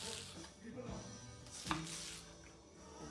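A knife chopping onions on a board, steady cutting taps across the clip with one sharper close knock in the middle, no talking.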